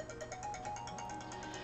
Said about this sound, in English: Yes, it's my phone. I'm answering it.